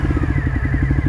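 A motorcycle engine runs steadily close by, with a rapid, even pulsing beat, a low rumble and a faint rising whine, loud and continuous with no talking.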